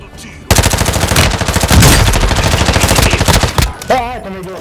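Rapid bursts of automatic gunfire in Call of Duty: Warzone rattle loudly and continuously for several seconds, then cut off into a brief electronic warble.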